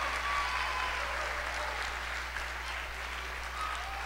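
An audience at a conference welcome session gives sponsors a round of applause: a steady, even wash of clapping heard at moderate distance over a low electrical hum.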